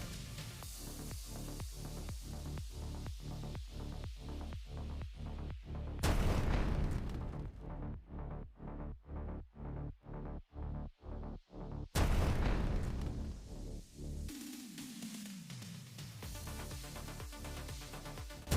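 A rapid series of heavy booming blasts among dry trees at a war front in Ukraine, regularly spaced and loud, broken by two louder, sharper explosions, then a low rumbling decay.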